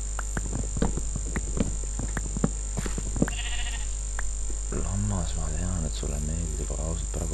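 Sheep in the Minecraft survival game bleat in wavering, pitched calls across the second half, following a stretch of man's speech and clicks, with steady game background noise throughout.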